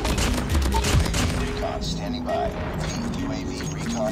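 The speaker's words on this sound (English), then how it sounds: "So here's me chasing down someone with my shorty, the secondary shotgun there." Shotgun blasts ring out in Call of Duty Ground War gameplay on the Satellite map, with a couple of sharp shots among ongoing game noise and a voice talking over it.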